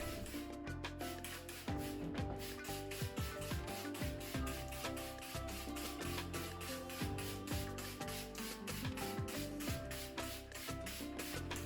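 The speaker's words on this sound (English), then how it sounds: "take the prepared cleaning solution and spray it completely over" Cleaning solution sprayed over a shower stall in quick, evenly spaced hissing bursts that repeat throughout, over a steady tonal background.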